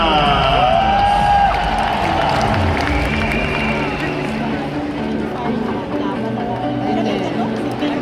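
A packed audience cheers and screams at the Miss Universe 2016 national costume competition, a loud, dense, continuous roar with shrill voices rising over it and speech mixed in throughout.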